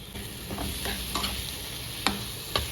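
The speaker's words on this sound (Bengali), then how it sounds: "হলুদ ভালো করে কষিয়ে নেব।" Turmeric, salt and green chillies being sautéed in a pan for an egg curry, soft sizzling under several spatula scrapes, with two sharper knocks of the utensil near the end.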